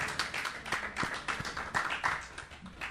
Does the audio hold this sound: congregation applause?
yes